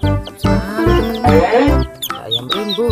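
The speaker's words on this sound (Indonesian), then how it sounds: "Ayam berlari." Chickens cluck loudly and repeatedly as they run, rainbow-dyed colourful birds making close, busy bursts of clucking over three seconds.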